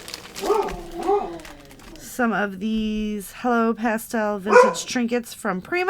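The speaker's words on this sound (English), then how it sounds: "Sorry about the dog." Dog barking repeatedly indoors in short yelping bursts, close and fairly loud, over and between a person talking while showing off a pastel craft kit.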